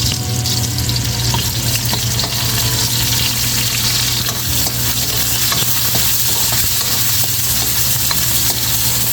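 Garlic and onion frying in a pan for a Filipino vegetable stew, a loud, continuous sizzle with frequent scraping and clacking of a utensil as the mixture is stirred, no talking.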